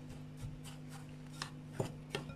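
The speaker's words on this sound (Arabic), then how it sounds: "اضيف شوي شوي وابدي احركها زين، امزجها سوا بحيث يصير عندي البسكت مثل المبلل" Biscuit crumbs stirred with melted butter in a bowl, giving soft, faint scraping and rubbing strokes with a few gentle taps, close up and quiet.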